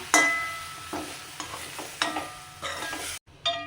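A spoon scrapes and stirs mashed sweet potato samosa filling in a pan, in several short, close strokes over a faint sizzle, with no voices.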